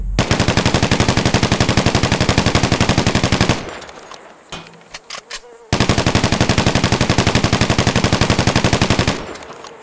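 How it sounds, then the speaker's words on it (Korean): A special carbine rifle fires in GTA 5: two long bursts of rapid, evenly spaced automatic shots, loud and close, separated by a few seconds of quieter clicks and handling noise. "이번에는 특별 카빈 소총의 사격 모션!"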